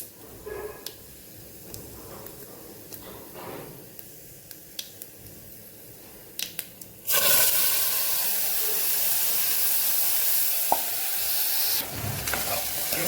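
Washed rice tipped into hot ghee and oil with a cumin tempering sets off a sudden, loud, steady sizzle midway through, after quieter kitchen handling sounds, with no talking.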